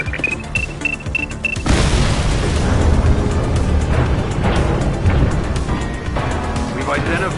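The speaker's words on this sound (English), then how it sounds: "We may not have the time to stop the explosion." Explosion in The Precinct video game: a sudden deep boom erupts after a brief quiet stretch and rolls into a sustained loud rumble with debris-like crackle.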